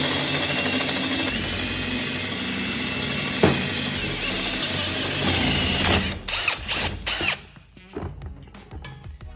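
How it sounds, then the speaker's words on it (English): A roughly half-inch drill bit bores out a bolt hole while an 8.8 axle is braced. The power drill whines loud and steady for about six seconds, then stutters and stops in short bursts as it breaks through. "get a drill bit and drill that out"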